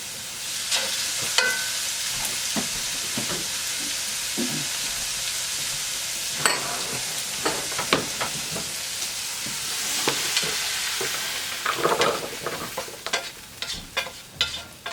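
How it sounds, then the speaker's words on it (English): Cooked peppers being scooped from a hot frying pan into a bowl, with a soft ongoing sizzle under scattered spoon scrapes, clinks and knocks against the pan that grow busier toward the end, all close by. "So now I'm going to go ahead and transfer these peppers from this pan and put them in this bowl."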